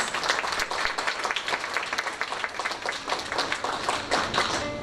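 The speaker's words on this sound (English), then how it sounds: "a big round of applause" Crowd applause at a university campus launch ceremony, many people clapping in a full, continuous rattle of overlapping hand claps that stays level from start to finish.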